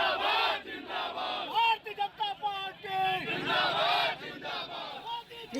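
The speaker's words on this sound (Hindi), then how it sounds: "राहुल गांधी वापस जाओ के नारे लगाने लगे" A crowd of protesters shouts slogans in unison at a political rally in Raebareli, loud rhythmic chanting with rising and falling voices and general crowd noise behind.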